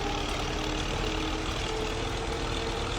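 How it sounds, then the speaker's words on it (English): A tractor engine in Farming Simulator 25 labours as it bogs down climbing a farm hill, a steady, strained, low rumbling drone that stays constant throughout with no talking. "This tractor just bogs down so easily."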